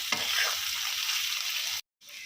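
Potatoes frying in oil with ginger garlic paste give a steady, close hiss and sizzle that cuts off briefly near the end before resuming more quietly.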